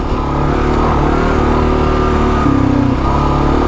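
Kawasaki KLR motorcycle engine running steadily at mid revs, its throttle cut and then rolled back on with a brief shift in pitch partway through, a close, loud, continuous drone with no speech.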